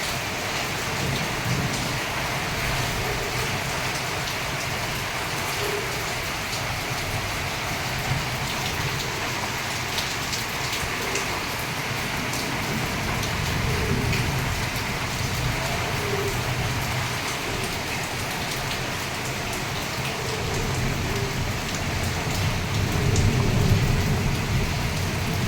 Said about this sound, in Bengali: এত শিলা পাথর পড়েছে যে বলার কথাই না।